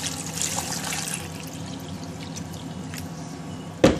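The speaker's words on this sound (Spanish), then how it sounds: "Solo se le agrega una jarra con agua." Water poured from a jug into a blender with frozen fruit: a steady, close splashing stream lasts several seconds, then ends with a short knock.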